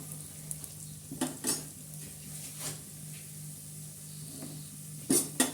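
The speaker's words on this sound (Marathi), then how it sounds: "भाजोपर्यंत असं लालसर चांगलं चांगलं असं भाजतच हलवतच राहायचं कारण खोबरं आणि हे लोकर जळतं काजू बदाम आणि खोबरं" Coconut, cashews and almonds being stirred and roasted in a pan, with a soft sizzle under a few scattered scrapes and clinks of the spoon against the pan, quiet and close with no talking.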